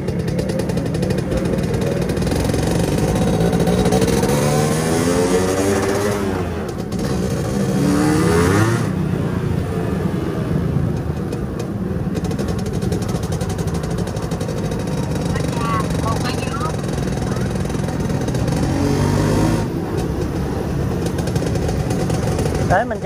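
A Xipo motorcycle engine runs steadily at close range as the bike rides into an alley, with a continuous low drone and a few swells in revving throughout, while a voice talks over it.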